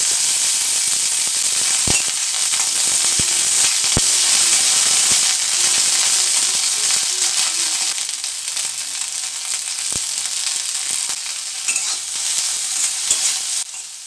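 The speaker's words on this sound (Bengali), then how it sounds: "ফুলকপিটা ভাজার সময় সামান্য একটু নুন ছড়িয়ে দিলাম।" Cauliflower fries in a wok of mustard oil with a little salt sprinkled over it, giving a loud, steady sizzle throughout with sharp clinks of stirring scattered across it. No one speaks.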